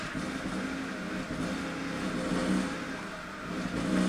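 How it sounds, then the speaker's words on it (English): A Mercedes engine hums steadily as the gas pedal is pressed, swelling slightly toward the end without any sharp rev climb. It carries on alone and close, with no voices. "if I'm gonna press on the gas pedal"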